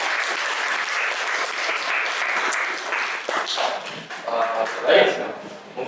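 An audience at an academic presentation breaks into applause, a steady patter of clapping that thins into scattered claps, with a voice speaking near the end.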